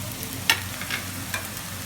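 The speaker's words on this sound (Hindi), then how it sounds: "मैंने चिकन डाल के इसको भूनना शुरू कर दिया" Chicken and bitter gourd frying in a pan, a soft, steady sizzle with a few faint clinks of a spoon stirring, quiet and close with no talking.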